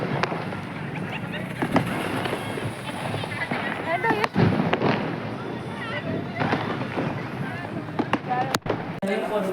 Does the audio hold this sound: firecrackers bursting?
yes